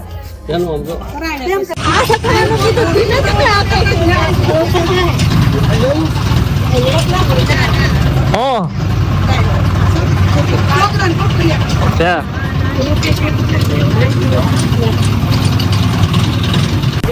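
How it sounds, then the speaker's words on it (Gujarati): A family tractor's engine drones loudly and steadily while it carries everyone along a village road to the farm. Voices chatter and call out over the constant mechanical rumble. "ટ્રેક્ટર ની સવારી નીકળી ગઈ છે અમારી વાડી ની મોજ લેવા"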